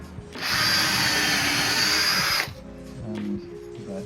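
A power drill bores a pilot hole into wood during vocal booth construction, giving one loud, steady whine of about two seconds that then cuts off to quiet handling noise.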